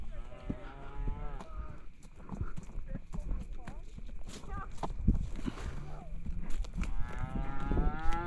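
Cattle on an Idaho ranch moo repeatedly in long, drawn-out calls, with hooves clopping on the ground and people talking nearby.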